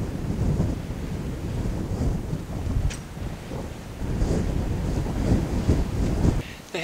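Strong wind buffets a Hilleberg Akto backpacking tent outdoors, a loud continuous rumbling roar with gusty swells and no clear voices.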